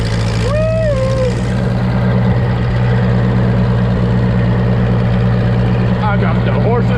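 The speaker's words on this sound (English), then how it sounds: "this is some serious off-roading in a Ferguson 28 horsepower tractor" A Ferguson 28 horsepower tractor engine chugs steadily at full throttle while driving off-road, a constant low rumble close by, with brief whistles and voices over it.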